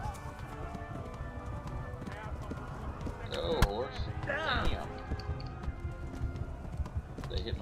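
Horse hooves clop along in the video game Kingdom Come, a steady rhythmic pounding against a busy backdrop of game sounds and brief tonal effects.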